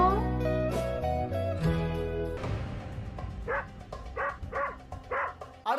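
A dog in a Bhojpuri movie scene gives short yelping barks and whimpers over a musical score, followed by a string of sharper, louder barks, fairly close.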